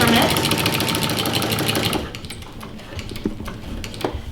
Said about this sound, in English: I'm gonna stitch about a 1/4 inch away from it.